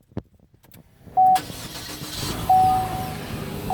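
A car engine is started with a key: faint clicks, then a short loud crank that catches and settles into an idle, with a warning chime beeping over it.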